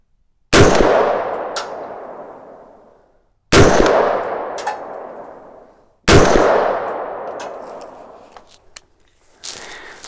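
Three loud rifle shots from a .30 caliber intermediate cartridge rifle fired through a chronograph, evenly spaced about three seconds apart, each a sharp crack with a long decaying outdoor echo; a faint clatter follows at the end.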